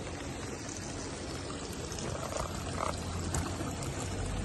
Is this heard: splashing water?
yes